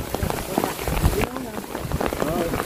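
Steady rain patters densely on nearby surfaces, with scattered drips and splashes throughout.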